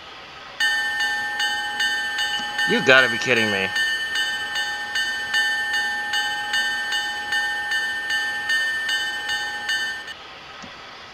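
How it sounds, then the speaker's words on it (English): A steam locomotive bell in a video game rings steadily for several seconds, clanging in a regular rhythm, with a man's brief remark over it. "Let's see what the bell sounds like."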